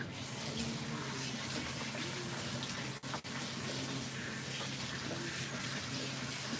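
Running water rinsing a cat during grooming, a steady close hissing spray from a tap with two brief dropouts midway, no voices.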